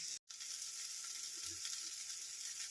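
Onions and tomatoes fry with turmeric and chili powder in a pan over low flame, giving a continuous soft, close sizzle with a brief cut near the start and faint bubbling pops, no voices.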